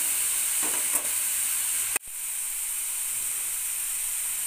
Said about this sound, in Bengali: গ্যাসের ফ্লেমটাকে মিডিয়ামে রেখে বিটটাকে ভাজতে হবে।